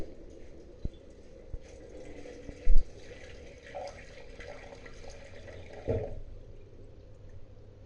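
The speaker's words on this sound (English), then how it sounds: "We pump this full of water." Water pumped into a container for distilling a home brew; a steady broadband rush and gurgle runs for several seconds with a few sharp knocks and clunks, close and fairly quiet, with no talking.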